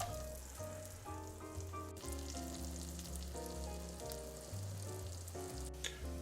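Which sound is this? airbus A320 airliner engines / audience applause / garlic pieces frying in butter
garlic pieces frying in butter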